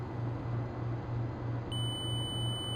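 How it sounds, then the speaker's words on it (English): The Apollo 10 spacecraft master alarm cuts in partway through as a steady high-pitched electronic tone over a constant low cabin hum and fan noise, and it holds until the end. "Standing by for master alarm."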